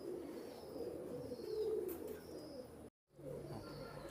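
Royal teddy pigeons, a running pair, coo softly in a low, rolling murmur that continues steadily, broken by a brief gap of silence before the cooing resumes.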